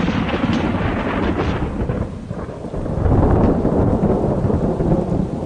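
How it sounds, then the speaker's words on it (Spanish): Thunderstorm in a Spanish radio drama: low rolling thunder rumbles continuously under steady rain hiss, swelling louder in the second half, with no voices. "permitimos que la gran tormenta vuelva a hacer acto de presencia"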